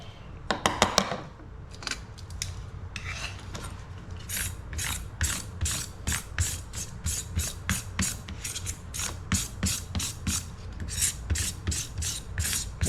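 Knife blade scraping spine nodules off an edible cactus pad in quick repeated rasping strokes, a rapid rough rhythm after a few sharp taps at the start, close-up with no voices.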